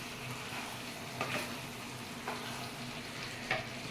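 Food sizzles steadily in a hot pan while a utensil scrapes and stirs through it a few times.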